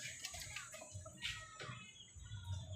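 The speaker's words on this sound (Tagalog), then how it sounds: "Kahit saan po may mga manok," Chickens cluck and murmur nearby in Quezon City, with a few louder calls rising over a steady background hum.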